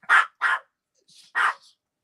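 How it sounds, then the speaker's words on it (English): A dog gives three loud, sharp barks close by, with a short faint yip between them, in otherwise quiet surroundings. "The dog in the background, that's our manager back there."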